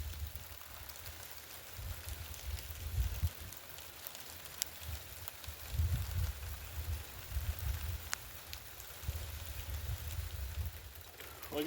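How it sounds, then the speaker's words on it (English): Pouring rain outdoors, a faint steady patter with low rumbling beneath and occasional sharper drops, heard alone without talk. "wash it down since it's pouring down rain here."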